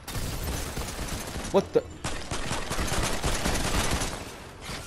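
Primal gun gunfire in the video game Fortnite, a dense, continuous stream of rapid shots with a couple of sharper cracks midway, heard under a brief exclamation from a player.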